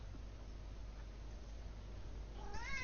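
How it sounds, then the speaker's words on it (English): A cat meows at the very end, a short rising cry heard over a steady low background hiss. "Sorry for the cat noises."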